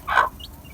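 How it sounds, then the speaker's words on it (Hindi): A hen gives a single short, close cluck, followed by a faint high chirp that may come from a chick, in a quiet rural setting. "ये मेरी आ गई जी रानी मुर्गी।"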